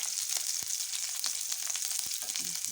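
Green chilies, chopped onion, bay leaf and whole garam masala frying in hot oil: a steady, close, bright sizzle with occasional stirring scrapes, no talking.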